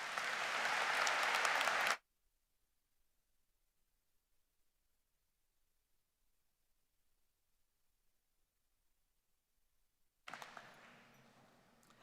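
Crowd applause at a GCSU College of Arts & Sciences spring commencement ceremony: a loud burst of clapping that stops abruptly, then near silence, then a second round of clapping that starts strongly and slowly fades.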